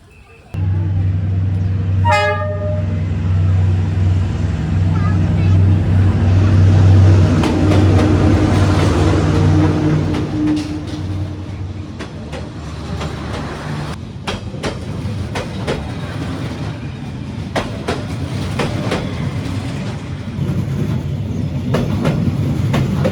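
A train rumbles loud and close along Hanoi's Train Street, its horn tooting early on, then a long steady clatter of wagons rolling past with voices in the crowd.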